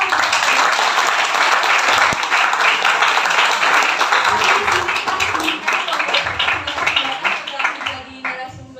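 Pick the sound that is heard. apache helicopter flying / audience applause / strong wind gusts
audience applause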